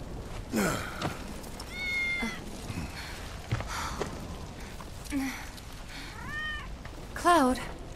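Cat meowing in Final Fantasy VII Remake, several distinct rising and falling meows spread across the stretch, the last one loudest and closest, over a soft game ambience.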